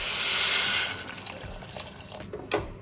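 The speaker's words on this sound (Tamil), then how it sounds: "இதில் வந்து ரெண்டு கிளாஸ் ரெண்டு டம்ளர் தண்ணி ஊற்றி" Water poured into a pressure cooker while making pav bhaji, a brief splashing gush that tapers into small trickles and drips, close by with no voice over it.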